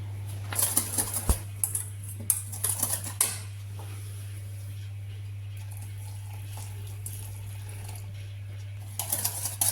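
Warm milk being mixed into butter, sugar and bread crumbs for a pudding, with clinks of a spoon against a bowl and light scraping early on and again at the end, over a steady hum.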